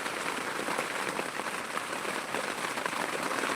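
Heavy rain falls over Bukkacherla village in Anantapur district, a continuous bright hiss of drops pattering on surfaces, close and even for the whole stretch with no voices.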